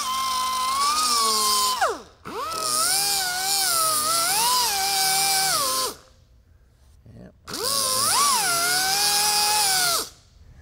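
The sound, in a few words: grinder grinding filler bumps on 1969 Charger body panel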